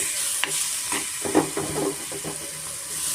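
Tomatoes fry in butter for a butter palak paneer gravy, with a steady sizzle and hiss under scraping, irregular stirring strokes close to the pan.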